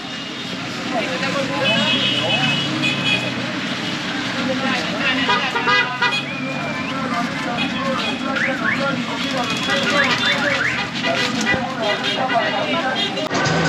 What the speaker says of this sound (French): La rue avec tous ces taxis bruyants qui font du bruit.